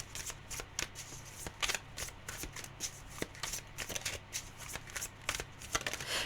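Tarot cards are shuffled close up in a steady run of quick, crisp riffling flicks over a low background hum.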